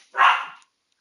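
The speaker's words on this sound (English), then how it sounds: "And that was my dog." A single loud dog bark in the Alan Wake 2 video game, one sharp close yelp that fades out within about half a second, followed by silence.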